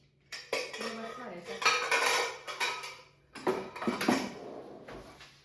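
Metal pots and pans clatter and clank in several bursts, close by, as cookware is pulled out and shifted around to fetch a large pressure cooker.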